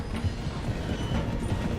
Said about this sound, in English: The train is slowing down to go through the station.